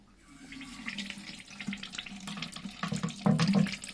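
Water rushes steadily into a toilet cistern as it refills after its stop cock is replaced, a continuous splashing flow that grows slightly louder toward the end.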